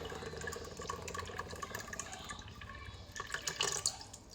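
Pineapple juice poured from a small 6- to 8-ounce can into a dish, a steady liquid trickle and splash that runs continuously for several seconds and grows a little louder toward the end.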